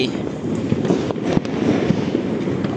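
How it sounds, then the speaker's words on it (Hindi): Diwali firecrackers burst across Delhi at night. Sharp pops and cracks come at irregular moments over a dense, roaring background of distant explosions, with no clear talk. "भाई इतने पटाखे फूट रहे हैं इतने पटाखे फूट रहे हैं"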